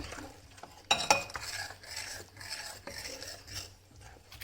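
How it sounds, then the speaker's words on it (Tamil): Batter for kara boondi, mixed with water to a dosa-batter consistency, is stirred in a bowl with soft wet swishing and scraping, plus a couple of sharp clinks early on, close and fairly quiet. "மாவு பூந்தி விழுற அளவுக்கு வந்து தோசை மாவு பதத்துக்கு நல்லா இப்படி மிக்ஸ் பண்ணி கலக்கிக்கோங்க"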